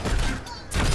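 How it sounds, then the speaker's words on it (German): Junkrat in Overwatch fires a rapid volley of grenades, a loud burst of thumping shots, then a brief lull, then another burst. "Mit den Granaten, wir können 5 Stück abschießen, dann müssen wir nachladen."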